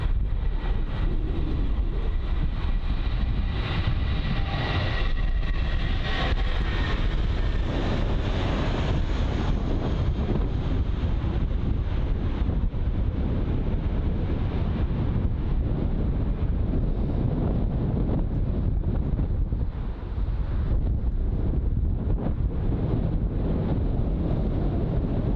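An Airbus A320 departs London Heathrow in 45 mph wind, a steady broad roar of jet engines mixed with heavy wind buffeting on the microphone, continuous and loud throughout without any talk.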